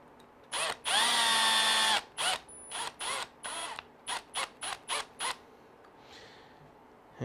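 A power drill drives a screw into an RC car's front brace, whirring in a long burst, then in a series of short, evenly spaced pulses, up close with no talking.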